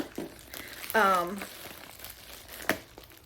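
Plastic wrapping crinkles and rustles as a potted plant is unwrapped, a few short close crackles with a brief voice and a sharp rustle near the end.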